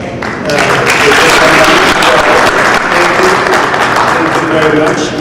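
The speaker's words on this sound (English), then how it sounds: "I just want everyone to give a round of applause for all of them." An audience at a community gathering gives a loud, sustained round of applause, dense clapping swelling after a brief opening and holding steady, with voices audible beneath it.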